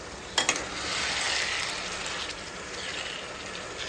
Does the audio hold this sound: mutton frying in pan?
yes